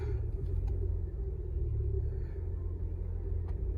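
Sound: car engine rumble while driving

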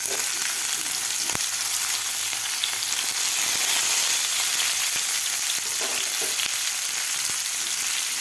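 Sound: masala-stuffed bitter gourds frying in oil with mustard seeds

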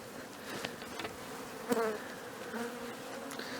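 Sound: honeybees buzzing at open hive

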